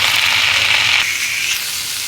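Kharkol leaves, a taro-like plant, hiss and sizzle loudly in hot oil, a bright steady frying noise close by that eases after about a second.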